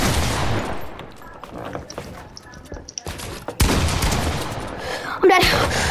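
Pump shotgun blasts and other gunfire in a video game battle, with several sharp, loud, close shots and dense bursts spread across the moment, mixed with faint game voices.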